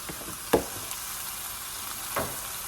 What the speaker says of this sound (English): So this onion is already chopped up. So I'm gonna add that directly to the pan.